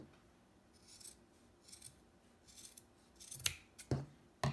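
Scissors snip straight across a sock in a few crisp, close cuts, each a short rasping slice and the last ones sharper, against a quiet background.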